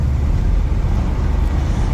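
A Smart car with no power steering cruises in fifth gear at 50 mph, its cabin filled with a steady, loud low rumble of engine and road noise that stays even throughout.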